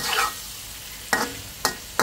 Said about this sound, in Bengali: এখন সবজিটা একটু চিকেন আর মাশরুমের সাথে ভেজে নিচ্ছি